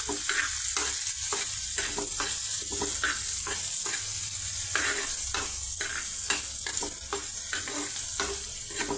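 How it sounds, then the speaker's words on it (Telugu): Onion pieces, curry leaves and two green chillies fry loudly in hot oil for ragi upma, a dense continuous sizzle broken by repeated quick scraping stirs of the spatula, close up with no talking. "ఆనియన్ పీసెస్ అండి, పచ్చిమిర్చి 2 పీసెస్ అండి. ఇవన్నీ 1 నిమిషం పాటు ఫ్రై చేద్దామండి."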